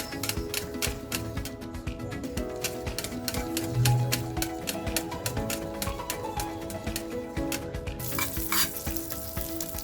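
Butter sizzles in a pan for a soufflé omelette, a dense steady crackle with rapid clicking spatters running throughout, and no one speaks.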